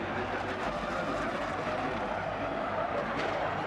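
Formula E race car at the 2024 Mexico season opener, a steady broadband roar of motor and tyres sliding under crowd-like wash, continuous and loud with no clear impact standing out.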